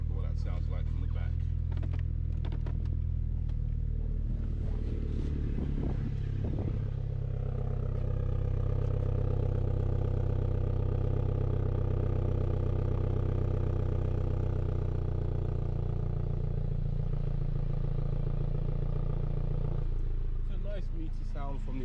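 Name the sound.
car exhaust with engine running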